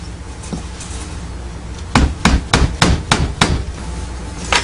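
A hammer strikes legs onto a wooden kids toy in six sharp, evenly spaced, close-up blows, with a lone softer tap at the end.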